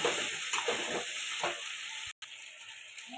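Chicken curry with garlic and ginger being sautéed in a pan makes a constant close sizzle with soft stirring scrapes and one brief dropout, with no voices.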